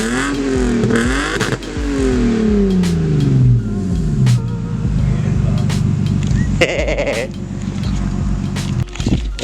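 A Lexus IS300 with an installed Y pipe revs loudly up and down, its exhaust crackling and popping between sweeps, close and dominant throughout.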